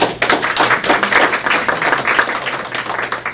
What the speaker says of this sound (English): If you would give them a round of applause